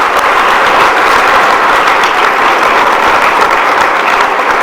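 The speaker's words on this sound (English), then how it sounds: "Let's give another round of applause for all our exceptional leaders." Steady, loud applause from a large room full of people at an evening awards event, continuous and dense throughout.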